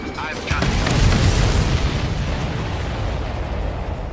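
Explosions in the video game Ace Combat 7 break out as a heavy booming burst, followed by a long rolling rumble that slowly fades, with no clear speech over it.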